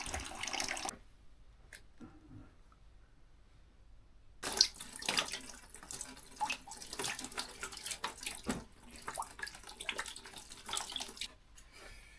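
Water runs from a tap into a sink, most of it going down the drain and a little passing through two filters, with a steady splashing flow that starts after a few quiet seconds.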